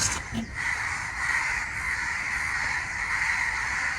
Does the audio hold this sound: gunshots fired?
no